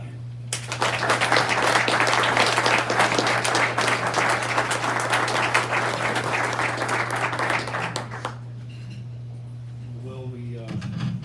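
Audience applause welcomes a speaker at a meeting, a sustained burst of clapping that lasts about eight seconds before fading out, followed by brief quiet and the start of a voice.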